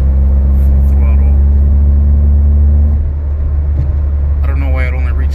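Tuned car at full throttle in sixth gear, a loud, steady low engine drone that shifts in pitch partway through, with road rumble throughout and someone talking over it.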